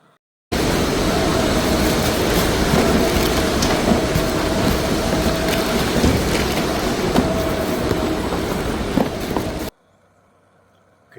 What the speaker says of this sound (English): Because this is what Amazon sounds like.